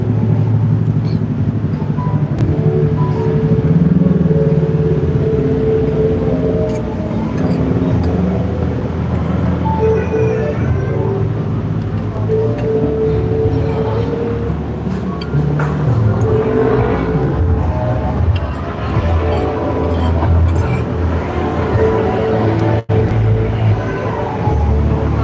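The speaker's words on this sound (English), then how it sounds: "Look at the traffic" Busy traffic streams along Beach Road in Pattaya, Thailand, a dense continuous roar of passing cars and motorbikes with engines revving and rising and falling, loud and close throughout.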